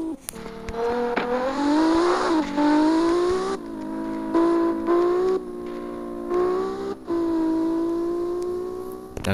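A car engine in CarX Drift Racing 2 revs at full throttle, its whine climbing in pitch through repeated gear shifts, each shift breaking the tone before it rises again, loud and steady.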